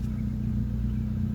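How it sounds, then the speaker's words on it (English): A 1998 Ford Escort ZX2 engine idling after new spark plugs, a steady, even low rumble with no fluctuation, close and alone. "This thing has never idled this smoothly before."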